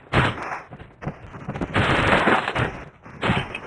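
Rapid gunfire bursts from a shotgun in the Melon Playground video game, loud overlapping blasts in quick succession with short gaps, no talk.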